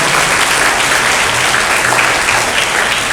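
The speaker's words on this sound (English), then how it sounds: "So let's give a round of applause for them too." A school audience at a patriotic competition claps loudly and continuously for the teaching faculty, the applause steady and unbroken throughout.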